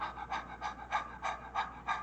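Ordinary human breathing, a steady run of about seven rhythmic breaths over two seconds, close and fairly quiet, with no talking.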